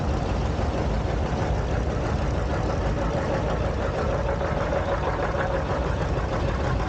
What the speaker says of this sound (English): He's driving a 1958 John Deere 820.